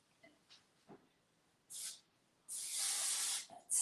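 Hairspray is sprayed in two bursts, a short hiss followed by a longer sustained spray, with faint soft handling sounds beforehand in a quiet room.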